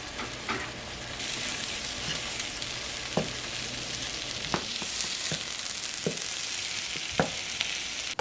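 Bread-free grilled cheese toast, cheese laid over a pre-made savory pancake, frying in a pan with a steady broadband sizzle and occasional light scraping clicks of a utensil, close and continuous with no talking.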